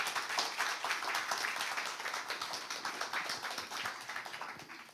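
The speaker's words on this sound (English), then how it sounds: "So give applause to our gentleman here" Audience applause at a business masterclass on real estate and resort markets, a dense steady patter of many hands clapping throughout, fairly loud and sustained with no voices over it.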